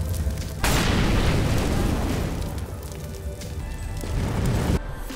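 A molotov cocktail thrown in CS:GO on the Mirage map bursts into a loud sudden whoosh of flame, followed by a steady roaring crackle of fire that holds for several seconds before cutting off.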